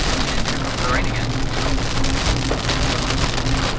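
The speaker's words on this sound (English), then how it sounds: "And here comes the rain again." Heavy rain pours down around a Toyota FJ Cruiser in a steady, loud hiss of drops drumming on surfaces, with a low rumble underneath and no pauses throughout.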